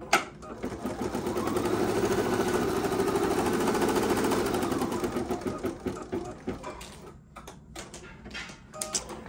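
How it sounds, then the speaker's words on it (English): An embroidery sewing machine stitches a box placement guide on an appliqué block, a rapid steady needle chatter for several seconds that slows and breaks into short bursts and clicks before stopping. "And now it's going to stitch this box placement guide."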